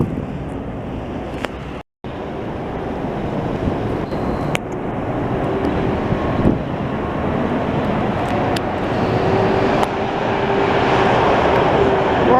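Strong wind roars steadily during a Montreal snowstorm while snow is being plowed, a loud, broadband rush buffeting the microphone that grows slightly stronger toward the end, with a brief dropout and faint occasional clicks.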